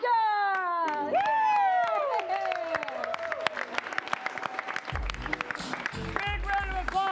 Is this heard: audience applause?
yes